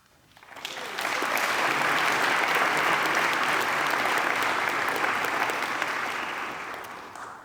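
An awards-day audience breaks into applause for new members, a dense clapping that swells in quickly, holds steady and loud for several seconds, then tapers off near the end.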